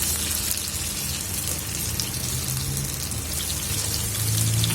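Soya chunk kebabs fry in a pan of hot oil, giving a steady, dense sizzle that crackles evenly throughout, close and fairly loud with no talking.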